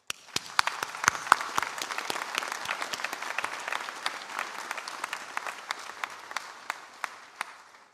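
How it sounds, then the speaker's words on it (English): Graduates at an Ulster University summer ceremony in Derry~Londonderry applaud their families, a hall full of clapping with sharp individual claps popping out, gradually thinning toward the end. "graduates, if you would join me in giving them a round of applause"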